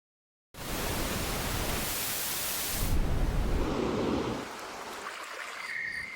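Steady hissing background noise from a Mac's built-in sound generator starts abruptly and runs on, shifting after a few seconds to a softer, darker rushing tone, even and constant.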